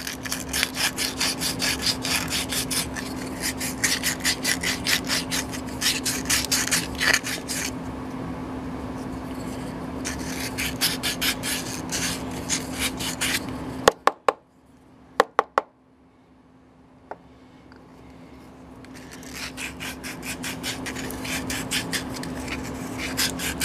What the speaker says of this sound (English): Coarser sandpaper.